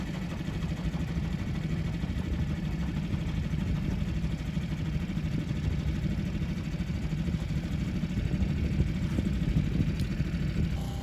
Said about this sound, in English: It's the Kingswear Castle paddle steamer, available for pleasure trips up and down the river.